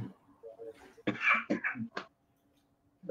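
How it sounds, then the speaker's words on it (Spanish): A man with a mild flu-like illness coughs and clears his throat in a short burst of several harsh, close bursts between softer vocal sounds, then falls quiet. "Tengo un poco de tos."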